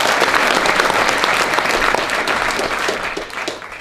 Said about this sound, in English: Please give a warm welcome to Ian Barclay.